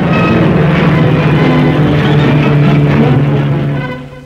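Propeller airplanes land at a Berlin airfield during the postwar airlift, a loud, steady droning engine roar that holds for several seconds before fading out at the end.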